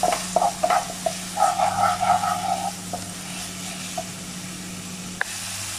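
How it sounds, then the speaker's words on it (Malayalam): A paste of crushed garlic, ginger and green chilli sautés in hot coconut oil, producing a soft, steady sizzle with a few light scrapes and a brief clatter near the end. "നമുക്കിനി ഇതിലോട്ട് നമ്മൾ ചതച്ച് വെച്ച ആ വെളുത്തുള്ളി, ഇഞ്ചി, പച്ചമുളകിൻ്റെ ആ പേസ്റ്റ് ഇട്ട് കൊടുക്കാം"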